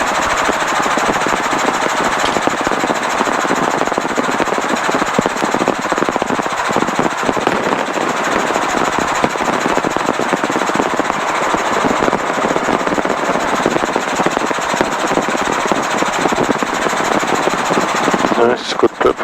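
A helicopter engine runs steadily and loudly during pre-flight preparation, a continuous close, rattling drone with rapid pulsing that holds throughout and briefly shifts just before the end.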